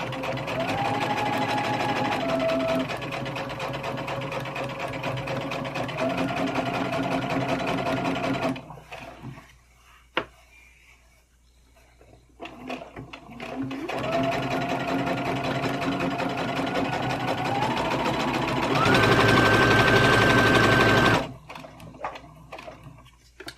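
A sewing machine stitches a custom bow tie in two long runs of steady, close whirring with shifting motor pitch, separated by a quiet pause with small clicks and handling.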